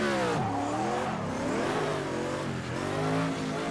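Several cars doing donuts in Project Cars 2 rev hard, with engine pitch repeatedly rising and falling in overlapping sweeps, loud and continuous, with no talk.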